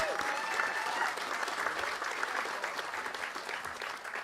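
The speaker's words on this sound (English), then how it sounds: "Let's give that a big round of applause." An audience at a student roll call remembrance ceremony gives a big round of applause, sustained and fairly distant clapping filling the room without speech.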